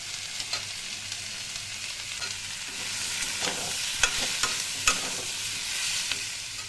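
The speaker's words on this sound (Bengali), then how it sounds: "এটা ভালো করে নেড়ে নেব।" Ground coriander, cumin and grated ginger sizzle steadily in a pan while being stirred, with a constant hiss and scattered scraping clicks of the spoon, close and alone.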